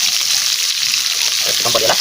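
Capsicum and cumin fry in a pan with a loud, close, steady hiss and crackle for a couple of seconds.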